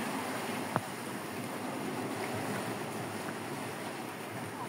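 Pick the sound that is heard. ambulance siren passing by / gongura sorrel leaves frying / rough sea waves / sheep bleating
rough sea waves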